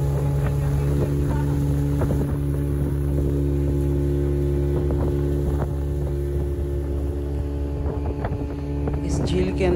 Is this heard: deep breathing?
no